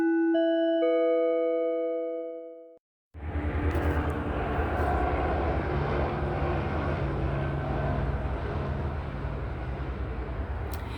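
A bright chiming tone gives way, after a brief gap, to a helicopter flying overhead: a loud, steady broadband roar that holds unbroken to the end.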